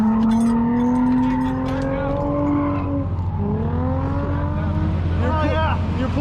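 A drifting car, heard from the passenger seat, roars loudly with an engine that swells and drops throughout, with tire squeal woven through the steady, close din.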